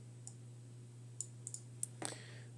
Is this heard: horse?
no